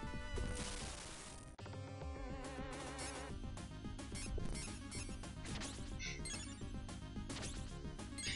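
Glass shards shatter and rain down during a Castlevania Bloodlines boss fight on the Sega Genesis, harsh crashing and tinkling chip effects repeating over busy, loud game music without any talk.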